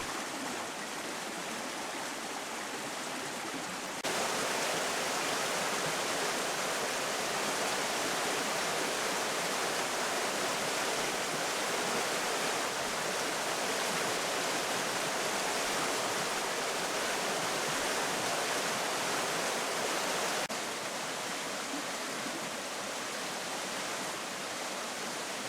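Chasteen Creek in the Great Smoky Mountains runs high after heavy rain, a continuous loud rushing roar of mountain stream water that swells stronger for most of the stretch, with no voices.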